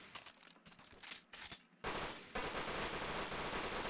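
Gunfire in a shooter video game, with a sparse, quieter stretch of shots that gives way to loud, sustained automatic fire blasting steadily through the last two seconds.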